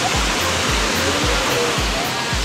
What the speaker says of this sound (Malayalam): നമ്മള് മാനൂരി വെള്ളച്ചാട്ടത്തിലാണ് ഗൈസ്.